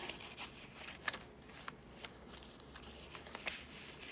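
Pages of a handmade shabby gothic raven journal are flipped quietly, giving soft, close papery rustles and brief flicks that come in an uneven rhythm.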